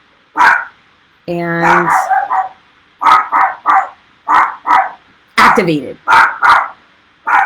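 Pebble, a small guard dog, barks in short sharp bursts, close and loud, with a yip and whimpering sounds between, while someone speaks briefly.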